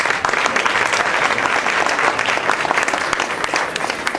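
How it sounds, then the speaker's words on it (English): A crowd at a Holi festival event claps warmly for the sponsors, a full, steady burst of applause with many hands clapping at once and no talk over it. "We have a big applause for them."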